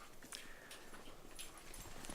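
Dogs whimpering faintly at a tiny home construction site, thin high whines rising over a quiet background hum with some light shuffling.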